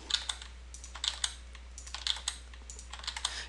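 Intermittent typing on a computer keyboard while working in Revit architectural software: scattered, close, crisp key clicks in uneven bursts over a quiet low hum.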